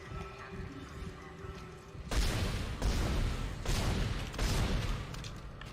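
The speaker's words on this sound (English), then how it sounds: "This is incredibly loud in my head, these gunshots." Loud gunfire in the sci-fi horror video game Dead Space, with four heavy broadband blasts in a steady, spaced rhythm, each with a rumbling tail, rising from a quieter ambient backdrop.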